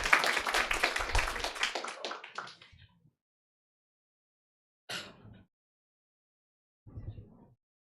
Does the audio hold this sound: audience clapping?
yes